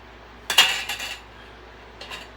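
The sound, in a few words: washing dinner plates and forks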